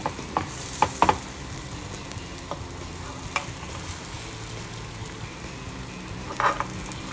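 Mixed dal ponganalu frying in a pan, a steady soft sizzle underneath with a few brief clinks and scrapes of a utensil, close by with no talk.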